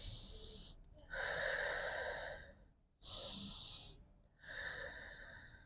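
Deep breathing during a yoga session: two long, loud, airy inhale-exhale cycles with brief pauses between them, close and alone.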